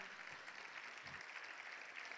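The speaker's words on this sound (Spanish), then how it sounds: "a quien le damos un fuerte aplauso" Audience applause welcoming a speaker at a Social Media Day conference in Uruguay: a steady, distant wash of clapping from a crowd, fairly faint and even throughout.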